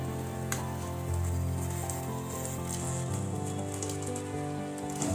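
Batter with an egg fries in white oil in a pan, giving a loud, steady, close sizzle with crackling spatters throughout and no talking.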